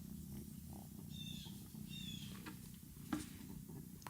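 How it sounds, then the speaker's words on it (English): A pet cat, a former feral, purrs steadily in a low rumbling pulse, close and fairly soft, with a few faint high chirps from elsewhere partway through and a brief tap near the end. "she purrs louder than any other cat I've ever experienced"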